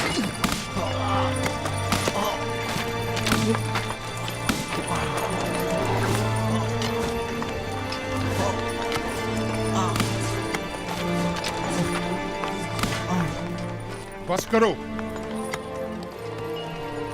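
Horse hooves clopping in an uneven rhythm alongside thuds and scuffles in a period drama scene, with music underneath and someone shouting over it.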